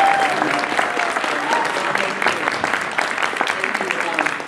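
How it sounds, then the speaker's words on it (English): A big round of audience applause at a musical theatre arts center event, loud dense clapping sustained throughout, with some voices mixed in. "so let's give Janet a big round of applause."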